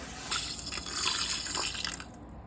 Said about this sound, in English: Now I'm going to pour my water in.